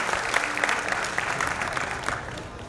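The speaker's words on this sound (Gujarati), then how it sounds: "શ્રદ્ધાબેનની સંયમ આનંદની શ્રદ્ધાને એકવાર તાળીથી અભિવાદન કરીએ" An audience at a diksha ceremony claps together, a steady, fairly full round of applause from a crowd heard at moderate distance, without a break.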